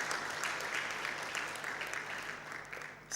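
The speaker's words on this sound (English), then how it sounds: "May we add her a loud round of applause" Applause from an audience at a formal curriculum manual launch event, a continuous wash of clapping held at moderate level with slight swells and no talking over it.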